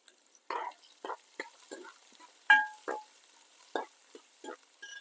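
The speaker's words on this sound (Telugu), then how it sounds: "ఉల్లిపాయలు ఎక్కువసేపు ఉంచద్దు ఎందుకంటే నూనె బాగా మరిగిపోయింది కాబట్టి వెంటనే వేసేద్దాం" Onions and green chilies tempering in very hot oil for okra fry, crackling in short irregular sizzling bursts and spits, fairly quiet and close, with gaps of near silence between pops.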